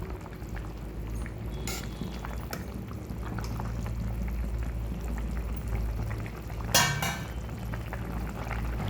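Bottle gourd stew simmering in a pot, a soft continuous bubbling and burbling close by with a few brief louder clinks and splashes, fairly quiet, with no talking.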